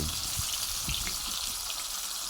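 Mackerel sizzling in hot oil, a dense continuous crackle with occasional louder pops and spatters, close and steady with no talking.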